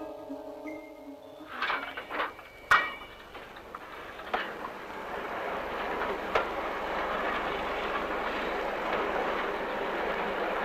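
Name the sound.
railway flatcar with crane rolling along the track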